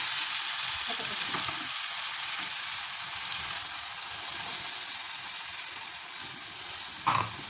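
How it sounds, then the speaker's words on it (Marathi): Masala paste with a little red chilli powder sautéing in a pan for a spicy drumstick curry, giving a steady close sizzle and hiss with occasional soft stirring scrapes throughout. "पूर्ण मसाला छान असा परतून घेणार आहोत"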